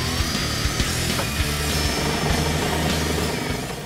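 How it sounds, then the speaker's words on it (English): A power drill bores holes for a strut tower brace on a 1986-1993 Ford Mustang, a loud continuous whirring grind with periodic knocks, close and steady throughout. "I'm going to hold it in place while he drills."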